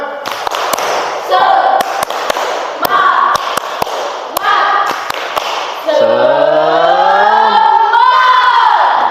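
A classroom group performs a rhythmic spirit clap, tepuk semangat, as an ice-breaker, with sharp claps in patterned bursts for about six seconds before voices rise together in loud, sustained group singing or chanting.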